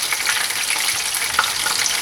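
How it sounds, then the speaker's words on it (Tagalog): Chicken ala king sauce bubbles and simmers in a pan, a steady close hiss and sizzle with soft popping and no voices. "Ayan, kumukulo na yung ating sauce."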